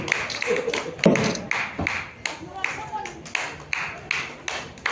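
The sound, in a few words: audience applause for a performer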